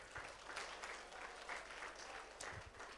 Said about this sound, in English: give a huge round of applause to all our performers